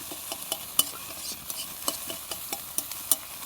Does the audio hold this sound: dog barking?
no